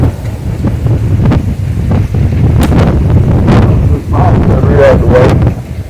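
Wind blowing outdoors, buffeting the microphone in loud, gusty rumbles throughout, with someone speaking briefly over it.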